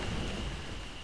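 Thunder rumbles under steady rain in the Blade & Soul game world, a brief, dense, low roll with constant hiss of rainfall and no voices.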